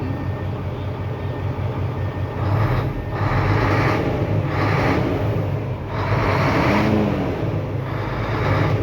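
An Isuzu 6WF1 truck diesel runs after a repair on its control box, a deep, steady rumbling idle close by with a few swells in intensity and no talk over it.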